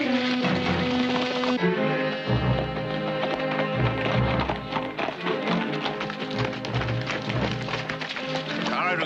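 Horses' hooves clip-clop in a steady rhythm on the trail, mixed with other sounds and a dense music or background bed throughout.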